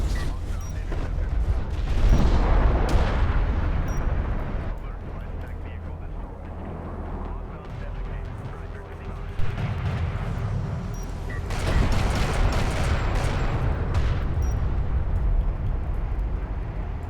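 Missile batteries fire in Homeworld: Deserts of Kharak, with rumbling launches and booms in loose clusters under a commentator's steady talk during a match.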